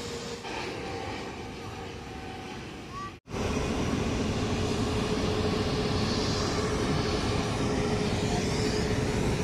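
Airplane engine at Mumbai rises to a steady, loud roar after a brief dropout, a continuous whine over broad rumbling noise.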